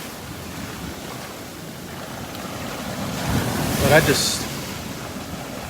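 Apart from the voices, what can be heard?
ocean waves breaking on beach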